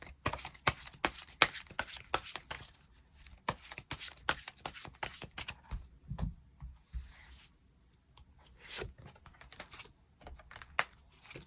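Tarot cards are drawn and shuffled for an extra reading, with quick crisp flicks, slides and taps of card stock close by, in irregular bursts broken by a short pause.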